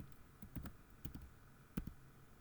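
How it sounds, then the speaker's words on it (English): Close, fairly quiet typing on a computer keyboard, a few scattered key clicks and short bursts over soft room noise, with no talk. "So I will type here project."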